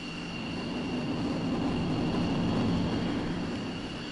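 A jet aircraft sound effect from the Dreams video game on PS4 gives a continuous broad, airy roar that swells slightly midway and stays steady to the end.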